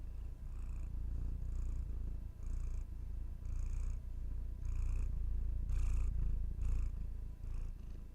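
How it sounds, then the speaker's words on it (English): Cats purring while resting in a lap make a soft, steady rumbling purr with rhythmic breathing pulses, close and quiet, with no talking. "Sharing your purrs."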